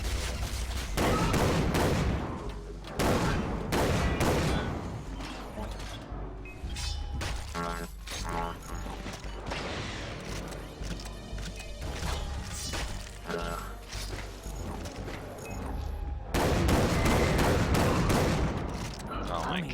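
Rapid, heavy shotgun blasts and gunfire from the video game Far Cry 3: Blood Dragon, loud and dense throughout, with repeated sharp bursts amid other game noise and a voice talking over it.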